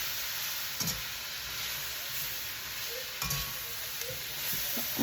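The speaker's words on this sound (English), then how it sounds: "Keep stirring that butter around in there." Broccoli stir-frying in butter in a pan gives a soft, steady hiss, with a few scattered clinks and scrapes from stirring, fairly quiet and close.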